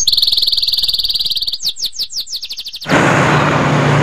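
Caged birds at a bird market chirp up close in a loud, rapid, pulsing trill, then break into a burst of separate sharp chirps. A broad noisy rush then drowns them out.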